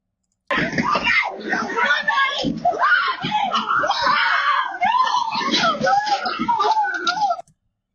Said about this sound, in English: She's running, she's screaming.